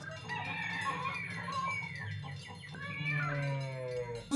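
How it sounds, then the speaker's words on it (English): Clucking chickens mixed into a song, the fowl calls overlapping with meow-like cries and a rising vocal line above a steady low musical bed. "I think I heard a cow, some chickens, a cat maybe."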